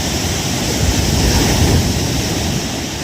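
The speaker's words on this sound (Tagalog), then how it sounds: "Binayo na ng binayo ng alon." Ocean waves pound a sinking fishing boat. A loud, continuous roar of surf and wind fills the scene without letting up.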